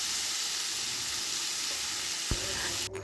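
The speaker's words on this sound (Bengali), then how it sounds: "আমার তরকারিটাই কিন্তু বলক এসে গেছে অলরেডি" A pot of curry comes to a boil, with a steady, close, bubbling hiss running throughout, a sharp knock partway through and a short clatter at the end, with no voices.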